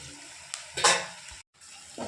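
Potatoes frying in a pan covered with a plate, a steady close sizzle that swells into a louder hiss burst, drops out briefly, then resumes.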